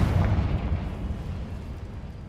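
A Confringo fire spell bursts in Hogwarts Legacy as a deep rumbling explosion, loud at onset and decaying over about two seconds, with no talk.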